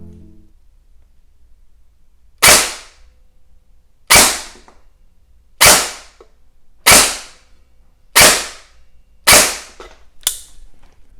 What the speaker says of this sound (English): we're going to put it in my gun and we're going to test it out